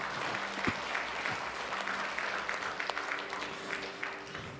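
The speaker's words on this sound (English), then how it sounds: "Let's give God a round of applause." Congregation applause during a church service, a steady spread of many hands clapping for several seconds, moderately quiet and somewhat distant in a large room.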